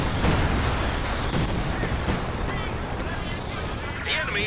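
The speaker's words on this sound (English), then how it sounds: "Here they come, the big bombs." Bombs drop and explode in a Company of Heroes 2 match, a dense, rumbling barrage of booms and sharp blasts in quick succession, with a voice commentating over the noise.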